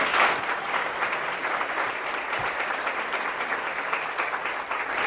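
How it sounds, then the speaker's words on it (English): A luncheon audience gives a steady round of applause, dense and even from start to finish, with no speech over it. "Kristen, I just want to give one more round of applause just for you,"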